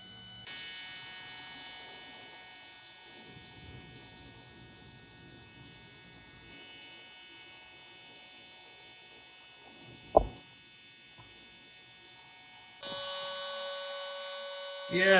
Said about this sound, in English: this is Intex little air pump, USB powered